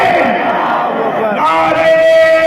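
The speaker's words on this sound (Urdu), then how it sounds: "چار لوگ کھڑے ہو کر لگائیں نعرے تکبیر" A large religious gathering chants the Naara-e-Takbeer slogan in unison, a loud sustained roar of many voices swelling and drawn out, close and filling the space.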